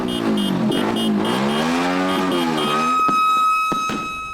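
Vehicle and motorcycle engines rev loudly with rising and falling pitch on a city street at New Year, a continuous roaring sweep that ends with sharp bursts and a high steady whine.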